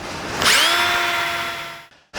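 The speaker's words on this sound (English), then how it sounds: "If we drill that out right there, then we've got a nice rounded edge" A power drill bores through sheet metal on a 1963–72 Chevy or GMC truck during a rear gas tank conversion, a single sharp whining burst that rises, holds steady about a second and a half, then cuts off abruptly.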